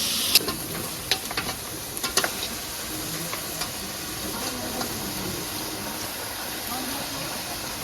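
Meat cooks in a pan while being stirred, giving a steady sizzle broken by sharp clicks and scrapes of the utensil early on, with faint voices in the background.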